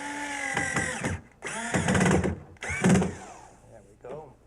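A power driver sends a very long drywall screw into cabinetry in three loud bursts of whirring and grinding, each lasting about a second with short pauses between them.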